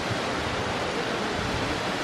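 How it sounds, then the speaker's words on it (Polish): Giessbach waterfall in Brienz, Switzerland, heard as a steady, broadband rushing roar of falling water that stays even and constant throughout, with no voices. "I spójrzcie, jak ten wodospad spływa."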